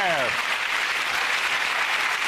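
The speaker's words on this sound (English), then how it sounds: "round of applause for all the people" Studio audience applause on a TV comedy panel show breaks out after a brief voice at the start, then holds as a dense, steady wash of clapping.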